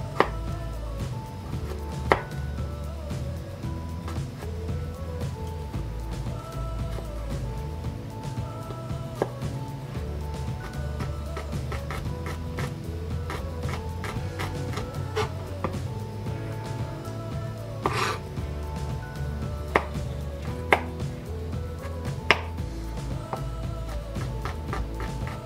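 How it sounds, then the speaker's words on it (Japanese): Fast, steady knife chopping on a cutting board while mincing ingredients for a one-pan peperoncino pasta, a dense run of rapid close taps continuing throughout with a few sharper knocks, with no voices. "縦に線入れて、横に線入れて、ボボボボボって切っていくやり方でやってます。"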